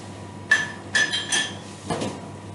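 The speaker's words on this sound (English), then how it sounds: "Don't need it anymore, put it in the dishwasher." Dishes clatter into a dishwasher in four separate clinking knocks of crockery and cutlery, heard up close.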